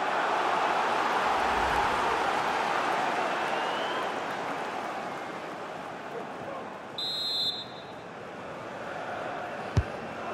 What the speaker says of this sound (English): just listen to the crowd. They know this is a big chance to equalise.